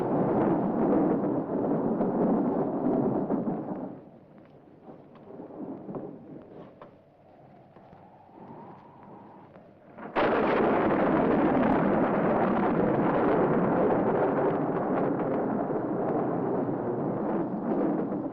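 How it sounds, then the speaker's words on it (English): A loud thunderstorm in a 1960 gothic horror film: heavy rumbling and crashing thunder fills the opening seconds, eases to a quieter wind-like lull, then a sharp loud thunderclap bursts in and sustained roaring storm noise continues to the end. "Oh, it's a storm."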